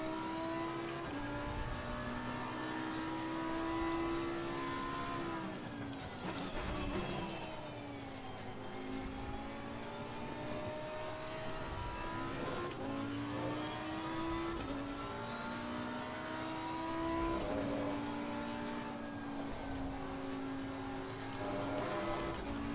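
A race car engine from Assetto Corsa Competizione at the Kyalami circuit howls steadily, pitch dropping sharply around six seconds as the car brakes and downshifts for a corner, then climbing again through the gears under hard acceleration.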